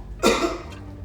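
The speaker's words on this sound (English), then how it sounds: "cough." A single short cough rings out close to the microphone, one sharp burst with a faint trailing echo, during a push-up tutorial.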